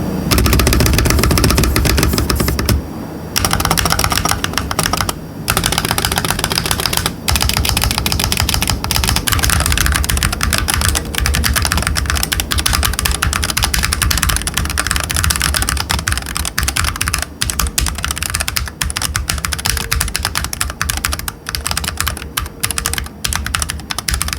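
Continuous clicky typing on a Monsgeek Fun60 Pro mechanical keyboard, close and loud, with dense rapid keystrokes and a few brief pauses, no voice.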